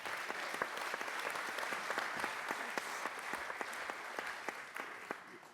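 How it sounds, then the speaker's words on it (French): Steady applause from a large audience at an award ceremony, many hands clapping continuously at a moderate distance. "Et on l'applaudit encore."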